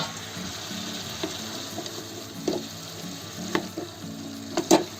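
Raw papaya curry gets stirred in a pan after the lid comes off, with a soft simmering hiss underneath and several sharp spoon scrapes and clinks against the pan, growing louder toward the end.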